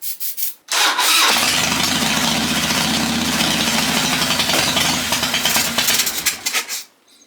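A Harley-Davidson Dyna motorcycle engine cranks over and catches, then runs loud and close with a rough, uneven idle for several seconds before cutting out abruptly.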